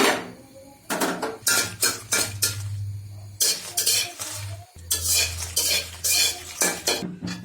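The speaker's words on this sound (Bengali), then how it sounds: "মরিচগুলো টেলে নেব।" Dried chilies roasting in a pan, with repeated sharp scraping and clattering of a spatula against metal in irregular bursts over a low steady hum, no talk.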